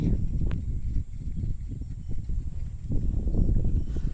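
A pair of bullocks plods through a farm field while harrowing the soil, giving a continuous low, muffled rumble of heavy steps and dragging earth with no clear pauses.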